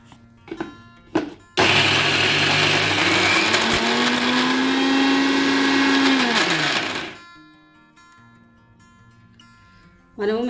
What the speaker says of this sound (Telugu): ఇప్పుడు మనము అలసందలు మిక్సీ పట్టుకోవాలి